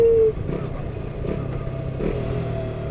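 A KTM Duke 200 motorcycle engine hums steadily while riding, its pitch rising and dipping with throttle changes and gear shifts, close and fairly loud with a light mechanical clatter.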